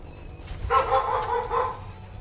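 Household dogs at bedtime give a short burst of two or three muffled barks and yips from a nearby room, over a low steady background hum.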